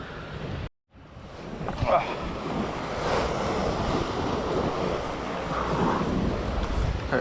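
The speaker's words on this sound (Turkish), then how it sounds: "Deniz çok güzel. İnanılmaz güzel dalga var." Surf breaking along a rocky Turkish coastline near a headland, a steady roar of waves with gusts of wind buffeting the microphone and one brief dropout near the start.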